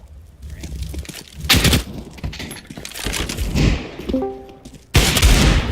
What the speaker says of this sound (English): Throwing a grenade. Incendiary out. Grenade out.